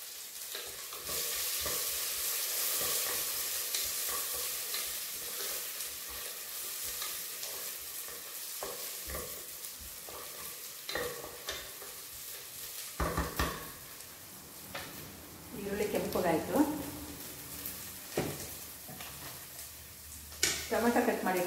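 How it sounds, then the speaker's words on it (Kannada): Onions and curry leaves frying in a pan for millet dal khichdi, a continuous sizzle broken by repeated scraping and stirring strokes, with occasional speech over it. "ಚೆನ್ನಾಗಿ ಫ್ರೈ ಆಗಬೇಕು, ಕೆಂಪುಗೆ ಈರುಳ್ಳಿ"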